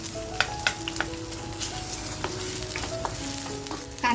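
Onion frying in a pan until reddish, for a spicy village-style curry: a steady close sizzle and crackle with occasional stirring clinks, and no voices.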